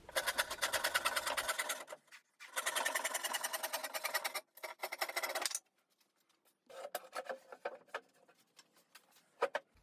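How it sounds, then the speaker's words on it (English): A handsaw cuts through wood for a workbench in long, rhythmic strokes, several bursts of steady rasping separated by brief pauses, close and fairly quiet, ending with lighter, choppier strokes. "Sometimes you can't beat going back to a good old handsaw."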